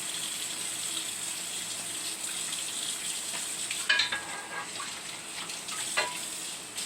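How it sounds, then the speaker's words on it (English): A skillet is cleaned under running water, producing a constant hissing wash with a couple of brief scraping clatters, heard close and fairly quiet. "Clean the skillet right quick."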